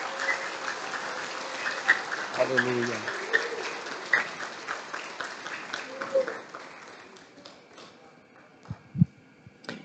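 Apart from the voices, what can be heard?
applause during a church service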